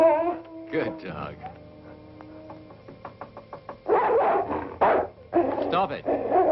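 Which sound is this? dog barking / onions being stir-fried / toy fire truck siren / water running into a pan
dog barking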